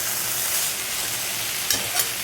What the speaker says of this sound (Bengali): এখানে হচ্ছে আলু ভাজা